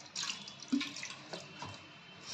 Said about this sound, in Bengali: দিয়ে জল দিয়ে দেবো।